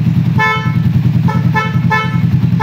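A motorshow champion motorcycle for sale sounds its horn in a string of short, loud, close toots, roughly evenly spaced and standing alone with no talk.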